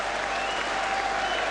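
Applause ripples around a football ground for goalkeeper Bailey's save in a Manchester United match, a distant, even wash of crowd clapping, fairly faint and steady throughout.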